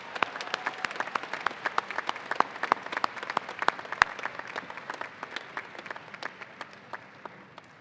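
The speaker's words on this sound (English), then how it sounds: "I want to ask our graduates to please give a round of applause to those here who helped make these achievements possible" A commencement audience applauds steadily for about eight seconds, with many quick, distinct claps at a moderate distance and no voices on top.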